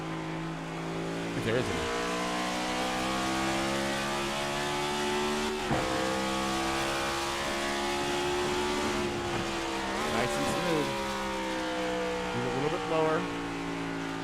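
Cup-series race car engine in the iRacing sim at New Hampshire, revving and shifting pitch as the throttle is backed off and reapplied through the corners, loud and continuous with someone talking over it.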